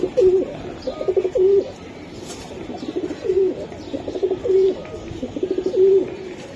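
Giribaz pigeons coo close by in repeated soft, rolling phrases, several bursts spaced a second or two apart with faint chirps in between.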